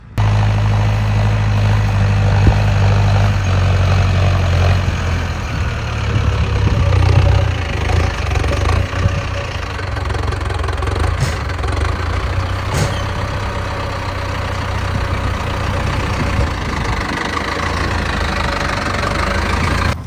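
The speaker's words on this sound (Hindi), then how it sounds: "तो भाई बचा हुआ बीज ख़त्म करके आ रहा है ये ट्रैक्टर" A New Holland 3630 tractor engine running steadily in a field during wheat sowing, a loud, close diesel rumble with a knocking low throb that holds throughout.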